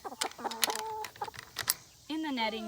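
Hens cluck and squawk close by in quick, overlapping bursts, ending in a drawn-out, wavering call.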